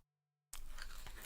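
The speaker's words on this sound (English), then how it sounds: "The sound of the crunch I'm about to have." A snack crunched close to the mouth, with loud, dense crunching breaking in abruptly after near-silence and carrying on steadily.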